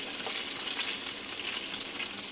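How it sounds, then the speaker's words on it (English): Garlic sizzles in hot butter and olive oil in a pan, a steady close crackling fry with no pauses. "I got some butter, olive oil in here. Go in with some garlic."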